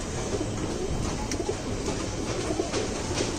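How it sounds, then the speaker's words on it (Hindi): Pigeons coo softly inside a pigeon loft, a low steady murmur of birds with no voices over it. "ये मेल कबूतर है, ठीक है।"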